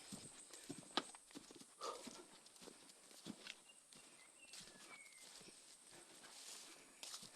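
A carabao (water buffalo) walks at a slow, steady pace while hauling wood, giving faint, irregular hoof thuds and clops over soft outdoor background noise.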